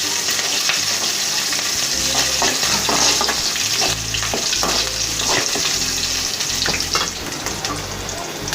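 Curry leaves and green chilies sauté in a hot pan, a steady loud sizzle broken by repeated scraping stirs, close up with no voices.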